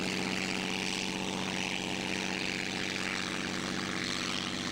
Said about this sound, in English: a German aircraft, Albatros B-2, made by Albatros Werke